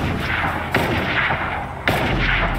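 Gunfire in a Fortnite duos match: loud, sharp shots ring out close at intervals, a few distinct bursts over continuous game ambience with no talking.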